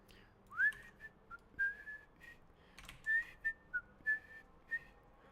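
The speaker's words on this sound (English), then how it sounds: "I'm whistling and humming?" Someone whistles a tune in short rising and falling phrases against faint background noise, each whistled note standing out clearly and nobody talking.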